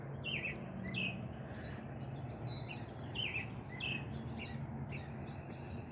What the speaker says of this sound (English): We've got a couple of robins out here.